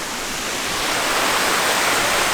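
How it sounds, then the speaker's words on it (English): Steady, dense rush of a waterfall on the Walls of Jericho trail in north Alabama, a continuous broadband roar with no breaks and no voices. "The waterfall right there too."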